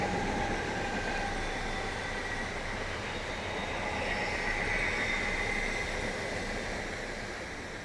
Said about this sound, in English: here are the 33s again, this time running from Purley to Salfords.